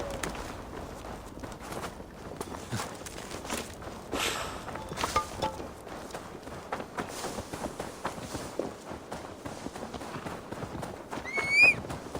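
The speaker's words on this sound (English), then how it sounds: "Now to deliver Magni his horse" Hooves clip-clop at a walk across a busy soundscape in Assassin's Creed Valhalla, and a short horse whinny rises near the end.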